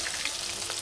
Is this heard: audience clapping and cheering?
no